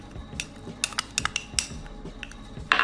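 A spoon mixing turmeric, cumin, salt and chili into raw mutton liver in a bowl, giving a series of light, irregular clinks and taps against the dish, fairly close, with no talk.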